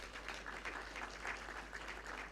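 Audience at a tenth-anniversary function clapping for the organising technical committee, a steady moderate round of applause from a seated crowd with no speech over it.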